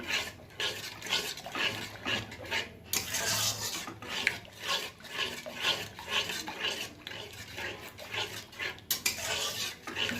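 Continuous stirring of a spiced yogurt mixture in a metal pan for doi potol, with steady scraping and rubbing strokes of a utensil against the pan, close and fairly loud, no talking.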